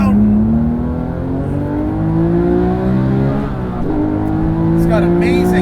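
A Porsche 997 GT3 RS 4.0 on track with its engine close and loud, its pitch rising steadily through the gears in a strong sustained pull, briefly dipping on a quick throttle blip before climbing again.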